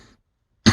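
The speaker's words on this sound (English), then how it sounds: "that's like probably the most I've coughed today" A single harsh cough bursts out near the end after a brief trail of breathy sound and silence, close and loud.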